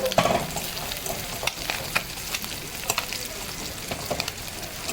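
Small fish frying in a wok and sticking to its surface, a steady close sizzle with irregular scraping and clinking strokes as a utensil stirs and lifts them, no voices.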